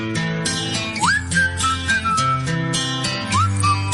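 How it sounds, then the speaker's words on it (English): A person whistles a short melody over a steady musical backing, the clear tone sliding up and holding between notes. "Hey, I'm whistling. Would you like to whistle too?"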